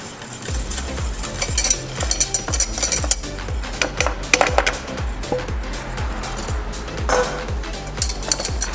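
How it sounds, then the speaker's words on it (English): A spoon stirs butter and flour for a roux in a pan, giving steady rhythmic scraping strokes over a soft sizzle, close and moderately loud with no talking. "We're going to melt the butter, keep stirring, and then gradually we're going to add the flour."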